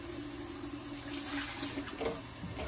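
Water running steadily to fill the small refill reservoir of a Drinkwell pet fountain, a continuous close splashing stream like a tap filling a container, heard alone.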